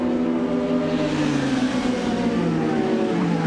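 IndyCar race cars roar together at a restart during the Honda Indy Grand Prix of Alabama, engines howling continuously as the pack accelerates, pitch sliding across the field in a loud, dense wall of sound.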